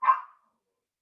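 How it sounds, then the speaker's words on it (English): A small dog gives a single sharp yap, close and fairly loud, cutting off quickly into silence. "my dog is yapping at me"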